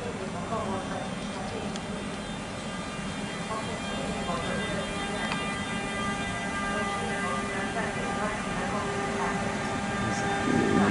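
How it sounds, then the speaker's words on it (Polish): Hetman EU47002 electric multiple unit pulling away on a snowy day in Piaseczno, a steady low rumble of rolling rail stock with faint tonal whine throughout, swelling slightly near the end, with a voice talking over it. "A na tyle Hetman EU47002. Hetman rusza ośnieżony tutaj z tyłu."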